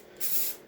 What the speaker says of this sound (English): I don't normally spray paint inside